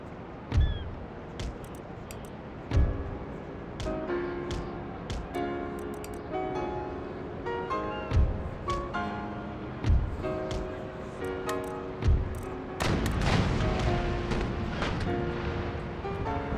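Naval cannons fire chain shot in the game Empire: Total War, with a series of deep booming shots spaced a few seconds apart over a sustained musical score, then a denser burst of blasts near the end.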